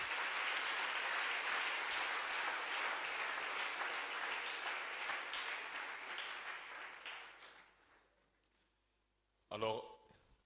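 Loud crowd applause at a church convention in Pointe-Noire keeps up for several seconds, then gradually fades out, and a short burst of a voice follows near the end.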